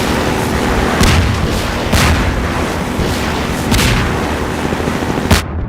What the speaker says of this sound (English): Oh, the missile got me.